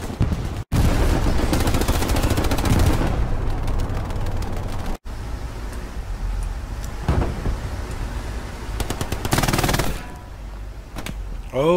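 Video game gunfire rings out in a long, loud, dense barrage with dull impacts of bullets striking enemy soldiers' helmets in headshots, broken by two sharp cutoffs, with a few louder bursts toward the end.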